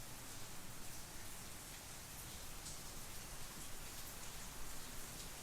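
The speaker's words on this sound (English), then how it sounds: "So he's enjoying this rainy day." Rain falls steadily outdoors on a rainy day, a soft, even hiss of drops that stays faint and unbroken throughout with no voices.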